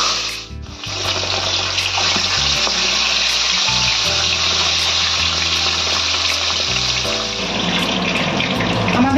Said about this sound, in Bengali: এবার একে একে আমরা মাছগুলো ভেজে নেব।